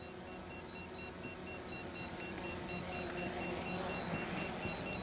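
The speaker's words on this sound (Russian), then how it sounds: "Начал истошно пищать." DJI Mavic drone controller sounds a critical low-battery warning as regular, evenly spaced high beeps, faint over a constant hum of rotor and wind noise, with no talking.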